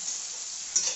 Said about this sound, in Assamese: এয়া ভাজি বনাই আছে